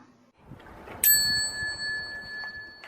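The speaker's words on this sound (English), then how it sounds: "When I hit the bell" A single bell strikes sharply at about one second and keeps ringing with a long, clear, sustained tone that slowly fades against a quiet, faintly noisy room.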